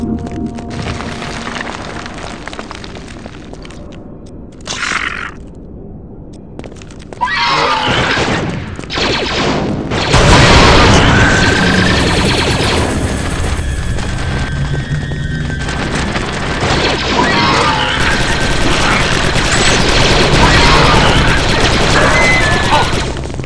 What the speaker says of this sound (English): Must be the battle upstairs.